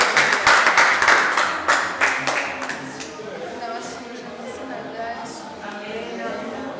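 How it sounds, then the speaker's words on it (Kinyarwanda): Wedding guests clapping, rhythmic close applause in the first few seconds that fades into a murmuring crowd with voices talking. "Mukomeye amashyi avuze neza rwose"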